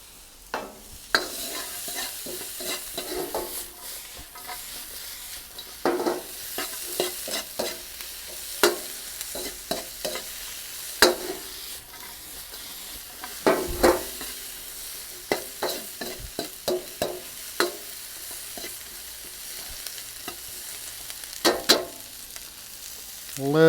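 Salt and pepper chicken stir-fried with sliced pepper in a hot pan, a continuous sizzle punctuated by repeated scraping and clattering strokes of the utensil, close and fairly loud without talk.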